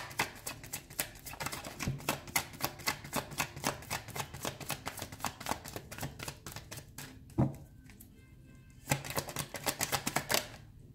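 Tarot cards shuffled by hand, a rapid run of crisp riffling clicks close up, pausing briefly near the end before another quick burst.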